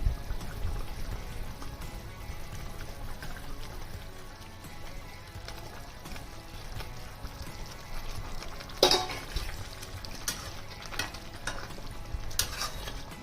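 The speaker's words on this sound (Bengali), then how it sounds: "ঝোল ভালো মতো ফুটে গেছে, এবার আমি মাছগুলোকে দিয়ে দিচ্ছি।" Pomfret fish go into a simmering spicy curry, giving a soft, steady bubbling sizzle with a sharper splash and scrape partway through and light stirring afterward.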